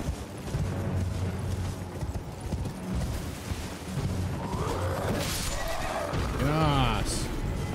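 Horse in Elden Ring neighing and whinnying near the end, with hoof clatter and game ambience underneath and a voice talking over much of it.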